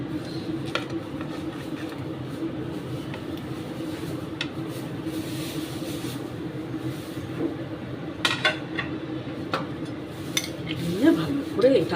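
Mango fruit chaat being mixed in a bowl, a spoon clinking and scraping against the dish in steady, close, moderately quiet stirring strokes over a faint background hum.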